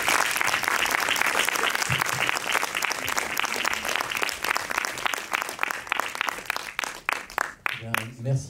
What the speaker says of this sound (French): je vais vous demander d'applaudir et d'introduire Pierre-Emmanuel Florentin